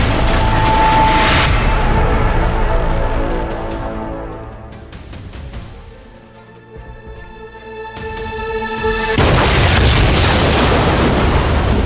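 Explosions from a drone attack in a Korean action drama trailer: loud booming blasts at the start and again near the end, with a quieter stretch of tonal music and sharp hits between them.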